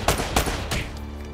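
Gunfire in the video game Uncharted: Drake's Fortune: several sharp shots in quick succession over about a second and a half, with a steady low background hum underneath.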